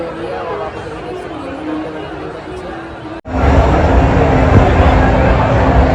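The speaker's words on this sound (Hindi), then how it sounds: "कितनी भीड़" A large crowd gathered outdoors in Meerut for a Shiv Mahapuran religious discourse makes a steady murmur of mingled voices and chatter, growing louder and denser halfway through as the scene shifts closer into the throng.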